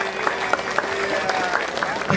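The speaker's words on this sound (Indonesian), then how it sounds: "kita beri tepuk tangan yang paling meriah" Audience clapping at a temple inauguration ceremony in Palembang, a steady moderate patter of many hands with a few sharper claps, with some voices in the background.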